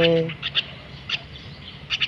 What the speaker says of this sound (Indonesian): saya melatih uh, burung jalak kesayangan saya ini biar supaya patuh saat kita panggil